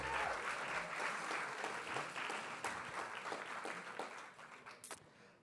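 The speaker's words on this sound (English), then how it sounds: "Another round of applause for the fireside chats." A crowd breaks into sustained applause, dense clapping that holds steady and then gradually thins out toward the end.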